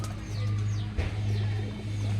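Rajshahi Giribaz pigeons coo softly in a loft, a steady low murmur of overlapping calls with a brief louder flutter near the middle and no talk.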